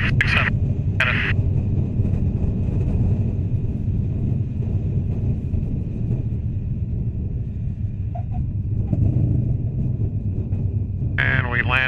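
A Zenith CH750 light aircraft rolls out after landing on a runway and brakes to a stop, its engine droning steadily at low power throughout with a constant near hum and rumble, while a few brief voice bursts cut in at the start and end.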